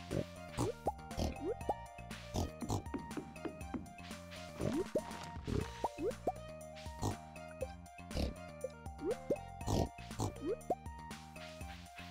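A pig in the farming game Stardew Valley Expanded gives repeated short oinks over a dense bed of game music and watery, drippy sound effects, with the grunts coming often across the stretch.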